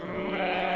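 Goat kids bleat in a short, wavering, fairly loud cry that lasts under a second, with no talking.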